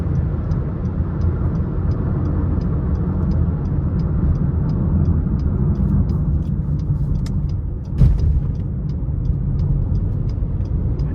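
A 2013 Acura RDX small SUV with a 3.5 engine cruises steadily down the interstate, giving a continuous loud road and engine drone with faint repeating ticks and one brief thump near the end; no one talks.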